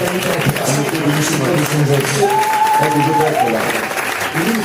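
Church congregation clapping and acclaiming the Lord during a Sunday service, continuous massed applause with voices calling and singing mixed in throughout.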